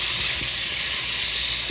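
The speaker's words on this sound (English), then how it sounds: "And I just stir this again." Cheesy meat sizzles loudly and continuously in a pan as it is stirred, a dense close-up hiss with a few soft low scrapes underneath.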